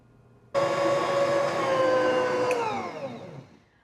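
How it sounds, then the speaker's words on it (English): Bosch Universal Plus stand mixer starting up to knead fresh milled whole wheat bread dough, a steady whining motor hum that kicks in abruptly, holds for a few seconds, then winds down as it slows. "I'm using my Bosch Universal Plus mixer today."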